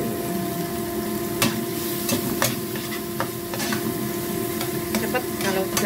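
Chili spice paste for egg balado sizzles steadily in a hot pan, a dense continuous frying hiss with occasional scrapes and knocks of a stirring utensil, close and loud.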